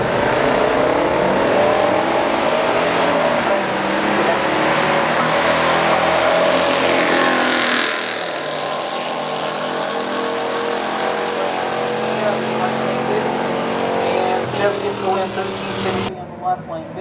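A 1972 Chevy and a 1972 Buick GS455 Stage 1 drag racing, big-block engines roaring loudly and building as the cars launch and pass, with a voice talking over part of the run.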